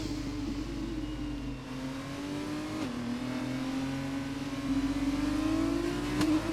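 The safety car's engine in the rFactor 2 racing game drones steadily through the Azerbaijan GP street circuit. It is loud and continuous, with a slight pitch dip and rise as it shifts and accelerates, and no voices are heard.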